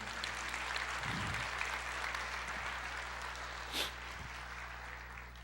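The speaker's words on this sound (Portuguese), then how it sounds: "Você pode aplaudir o Senhor" A church congregation applauds faintly and steadily in the background, a low, even patter of clapping with a brief louder rustle near the end and no speech.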